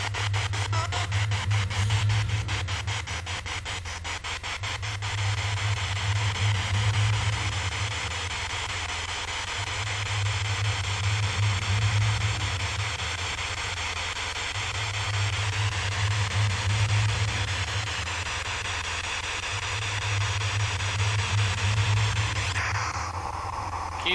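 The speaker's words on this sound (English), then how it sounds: "Right now I am using the SB7 spirit box that uses radio frequency sweeps to generate white noise" An SB7 spirit box sweeps radio frequencies inside a former prison, giving a loud, continuous wash of hiss and static with a rapid ticking flutter and a slow, pulsing low hum, and no voices.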